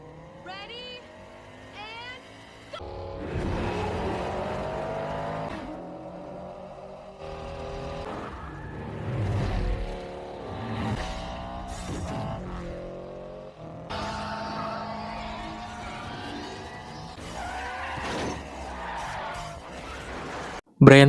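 Street racing cars in 2 Fast 2 Furious roar and rev at the start of a race, with engine surges, passing whooshes and tire noise mixed under music, loud and continuous.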